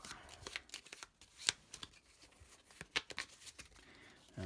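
Dungeon cards for the Heroes of Tenefyr board game are shuffled by hand close up, making a quick series of crisp riffling snaps and soft slides, irregular in rhythm, with no talking.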